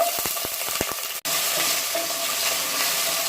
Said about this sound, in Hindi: फिर हम आलू को फ्राई करेंगे।